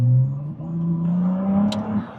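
Ferrari 296 Speciale, an 880 hp rear-drive supercar, kicking down from 7th to 3rd as its engine note climbs steadily under hard acceleration, loud and close throughout with a brief high whoosh near the end.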